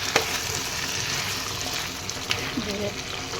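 Duck curry frying in a pan, with a close, steady sizzle and occasional scraping strokes as it is stirred.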